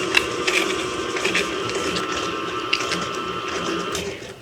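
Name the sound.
stand mixer creaming butter and sugar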